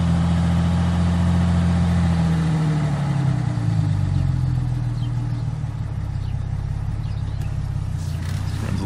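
A Jeep engine idles while still cold and running a little slow, giving a steady, close, continuous rumble with an even low drone throughout and no speech.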